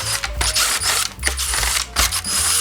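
Screws being unscrewed while disassembling an old Samsung fixed-speed stand air conditioner, a close series of ratcheting clicks from a driver turning in short bursts with brief pauses between.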